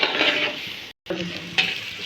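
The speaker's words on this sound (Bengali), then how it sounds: "এই যে গরম পানি দিয়ে দিচ্ছে ভাজা হয়ে গেছে" Sizzling frying pulao rice in a pan, a continuous loud hiss broken by a brief gap, then resuming with scraping and steam as hot water goes in, no speech.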